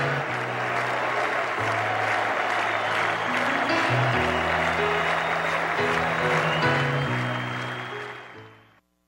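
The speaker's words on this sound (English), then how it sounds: "Mario has taken the ice to a standing ovation from the crowd" A big arena crowd at Mellon Arena gives a standing ovation for a hockey figure taking the ice, clapping and cheering continuously while organ-like notes play over it; the noise drops off sharply at the end.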